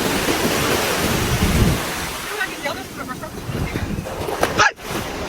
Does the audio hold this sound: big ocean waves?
yes